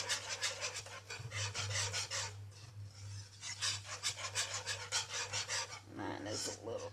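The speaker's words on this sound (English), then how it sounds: "got to add the mustard. Okay. Whisk that in." A whisk scrapes rhythmically through a mac and cheese roux as mustard is stirred in, giving quick, raspy strokes in steady bursts with short pauses, close and fairly quiet over a low steady hum.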